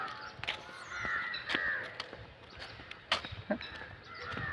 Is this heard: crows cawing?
yes